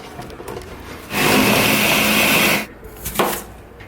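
A blender blending vegetables whirs loudly for about a second and a half, starting and stopping abruptly, with kitchen clatter before and after.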